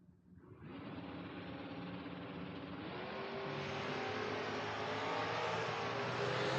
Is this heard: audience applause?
no